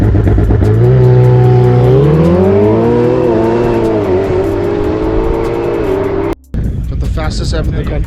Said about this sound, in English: We got the McLaren 720S and the Pista.